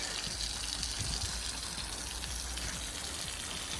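Water gushes steadily from a newly fitted £20 outdoor garden tap in the UK, a constant rushing hiss close by with no voices.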